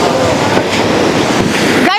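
Ocean surf rolls onto a beach in La Union, a loud, steady wash of waves with strong wind buffeting the microphone and no clear voices.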